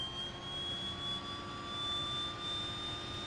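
A DHC-6-300 Twin Otter right turboprop engine spools up during start in a flight simulator, a steady rising whine over a broad continuous roar, close and loud throughout with no talk.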